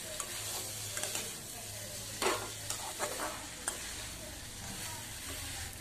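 Potato and papad curry with kasuri methi sizzling steadily in a pan while a spoon stirs it, with scattered scraping clicks over a constant fry hiss.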